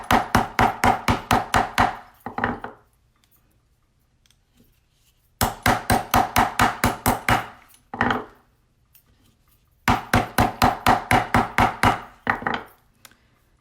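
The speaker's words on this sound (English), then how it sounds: "I'm going to take the back of my hammer and I'm going to give it a couple of nice hits." Hammer blows against a metal stamping blank resting on a steel bench block, struck with the back of the hammer head while making hand-stamped jewelry: three bursts of about eight quick, ringing taps each, separated by short pauses.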